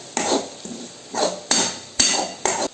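Spiced beef masala with chili, cumin and pepper powder stirred in a pot for beef roast, heard as a series of scraping, clanking spoon strokes against metal, about six uneven strokes, close and alone.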